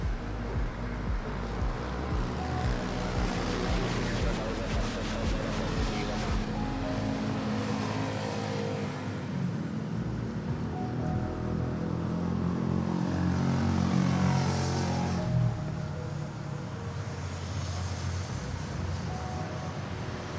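A Cathay Pacific Boeing 777 on the runway at Manila airport, a broad distant jet engine roar that swells and rumbles steadily for about twenty seconds, heard from afar.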